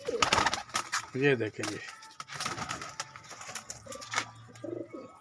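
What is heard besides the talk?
breeding pigeons cooing in a cage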